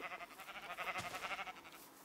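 A sheep in a video game gives a quavering, wavering bleat lasting about two seconds, faint and alone.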